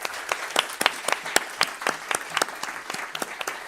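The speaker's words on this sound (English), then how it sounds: "I would like to ask you all join in the round of applause to thank our speakers." An audience claps for panel speakers at a conference on Ukraine's recovery, with distinct individual claps forming a fairly sparse, moderately loud round of applause that continues evenly throughout.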